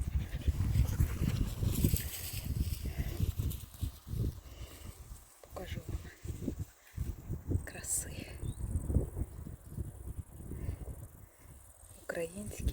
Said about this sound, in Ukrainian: Собак вигуляти